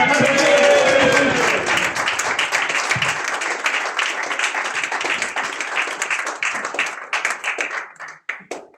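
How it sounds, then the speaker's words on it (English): A crowd claps along to music at a supporting act. The clapping is dense and steady under cheering and some voices, and it thins toward the end into scattered individual claps. "start clapping the tunes"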